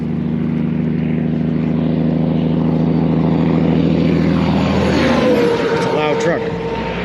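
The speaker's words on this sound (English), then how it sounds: "It's a loud truck." A loud truck passes close on a roadside, its heavy engine drone swelling steadily and then fading with a shifting whine as it moves away, while traffic noise continues.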